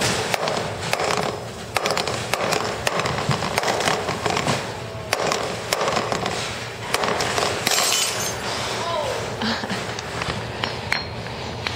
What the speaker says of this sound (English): So today I will break the glass and turn it on to see.